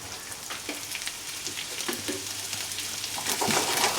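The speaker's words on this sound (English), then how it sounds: "so the chorizo is cooking" Chorizo sizzling in a frying pan, a dense steady crackle and spit with small pops throughout, growing slightly louder toward the end, close up with no talk.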